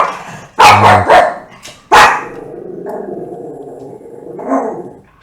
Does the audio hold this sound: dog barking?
yes